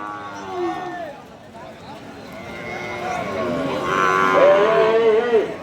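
Cattle lowing at a border-area livestock market where medium-sized bulls are sold, with long, moderately loud moos rising and falling across the stretch and a louder call near the end, no speech over them.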